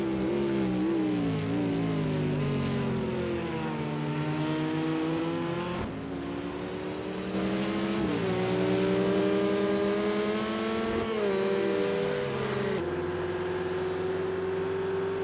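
A loud Aston Martin GTE race car engine in a sim racing game at Red Bull Ring, revving up through rising gear pulls with brief drops at each shift, close and dominant throughout.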